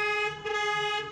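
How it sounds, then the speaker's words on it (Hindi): Car horn honking in one sustained, fairly loud toot while a car is being driven out of a tight spot, with faint background noise. "हॉर्न हॉर्न मारो, हॉर्न"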